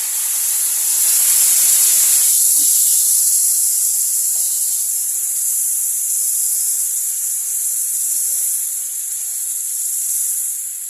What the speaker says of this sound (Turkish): yavaş yavaş sütü ilave ediyorum.